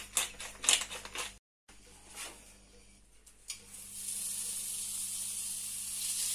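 Pork tenderloin hits a hot pan and settles into a steady, bright sizzle after a few clatters and scrapes, growing louder and continuous toward the end.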